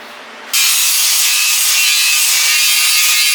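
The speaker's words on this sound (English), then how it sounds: "now I'm just going to come in here with the sanding disc and knock this paint off" A sanding disc kicks in abruptly and grinds paint off metal continuously, a loud, harsh, high-pitched abrasive roar close by, on a motorcycle frame part before welding.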